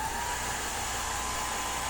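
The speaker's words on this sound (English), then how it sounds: "So let me see if I do the blow dryer." A blow dryer runs steadily over freshly painted nail polish during stamped nail art, a continuous close whirring hiss with no talk.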